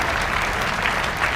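Dense, even applause from a large audience of mothers at a temple consecration festival at a Vedic school in Gothmanglod, a continuous clapping roar throughout the short moment with no break.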